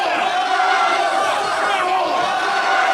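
Wrestling crowd at the Caboose venue jeering and shouting against a wrestler, a loud, dense wall of crowd voices sustained throughout.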